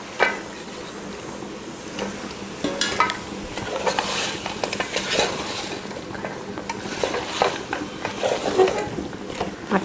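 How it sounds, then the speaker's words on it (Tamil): Mutton bones stirred into sizzling masala in a frying pan, with a steady scraping, clattering stir and soft frying crackle throughout, close and moderately quiet, no talking. "இப்போ இதில் மட்டன் சேர்த்துக்கலாம். மட்டனோட எலும்பு இது."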